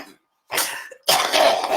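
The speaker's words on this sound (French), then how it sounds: "Je peux pas cacher quand je tousse." Two rough coughs close to the microphone, separated by a brief pause, with no speech around them.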